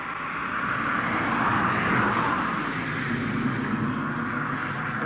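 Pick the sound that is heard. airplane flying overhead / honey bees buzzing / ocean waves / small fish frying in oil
airplane flying overhead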